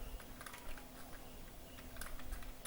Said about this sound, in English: On Notepad, we type